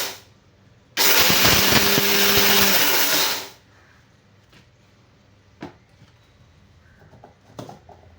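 A kitchen mixer grinder whirs loudly for about two and a half seconds, grinding ingredients such as garlic and onion into a coarse paste. Faint knocks and handling noises follow.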